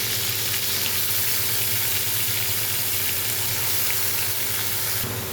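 Water spinach hisses and sizzles loudly in a hot pan with fried shrimp, a dense, continuous frying crackle with no voices.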